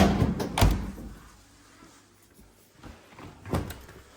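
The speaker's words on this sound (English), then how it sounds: "And then you got the drawer style freezer." A drawer-style freezer in a home is pulled open with a couple of thuds and a soft sliding rumble, then another knock a few seconds later, close by and moderately loud.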